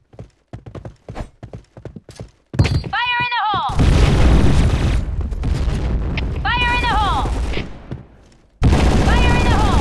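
A grenade blows up in an online shooter game, a loud, rumbling broadband blast that rolls on for about a second, then a second heavy explosion near the end, with clipped in-game voice lines and rapid footsteps around them.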